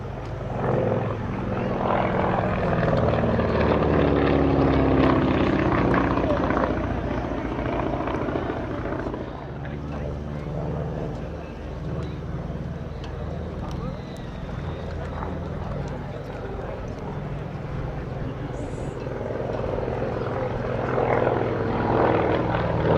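A propeller aircraft, a restored wartime plane at the East Kirkby airshow, drones steadily overhead, its engine roar swelling and fading over the whole stretch while a commentator talks over the public address.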